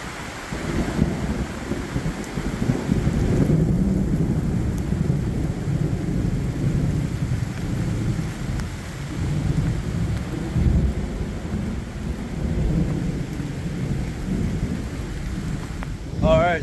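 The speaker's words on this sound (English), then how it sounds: "quite a bit of thunder rolling" Low rumbling thunder rolls on and on beneath steady rain on a hiking trail near Dog Slaughter Falls, Kentucky, a continuous heavy wash of sound with no voices.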